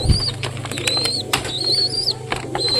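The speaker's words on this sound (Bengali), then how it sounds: "নতুন পায়রা সরি নতুন ঘুঘু একে ডিস্টার্ব করছে" Pigeons and a pigeon–Australian dove cross flutter and flap their wings nearby in a short burst of flapping, with faint cooing and chirps in the background and no talk.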